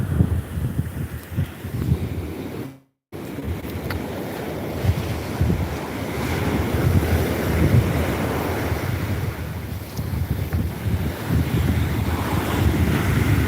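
Ocean waves washing up a beach at high tide, broadband surf with steady wind rush on the microphone, continuous and fairly loud, with a brief dropout near the third second.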